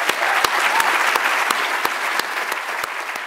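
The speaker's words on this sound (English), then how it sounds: "Please let's all give them a round of applause." Strong audience applause for presenters of a college equity plan, dense sustained clapping at close range with a few sharp individual claps standing out, holding steady throughout.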